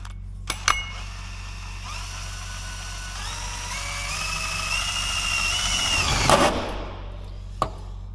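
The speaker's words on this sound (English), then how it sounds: "Let's drill our hole." A cordless power drill whirs steadily for several seconds in a workshop, its pitch rising slightly as it bores a hole, then winds down, with a couple of sharp clicks before and after.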